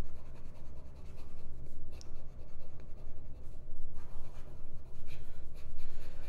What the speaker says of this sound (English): We can do some fast writing.